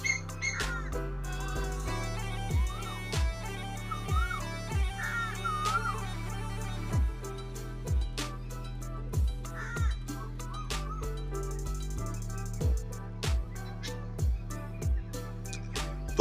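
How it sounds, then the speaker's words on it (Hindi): Crows caw repeatedly in open farm fields, their calls faint to moderate over a steady low engine hum and rhythmic mechanical thumping, with no one speaking. "देखिए कितने सारे पक्षी बोल रहे हैं।"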